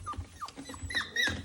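Seven-week-old Cashmere puppies yip and whimper in short, high, bright calls with some low growly sounds. The calls come close together and sit close to the listener.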